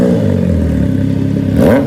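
Triumph Trident 660 motorcycle with a full exhaust system, idling close by with a rough, throbbing burble that swells into a quick rev near the end.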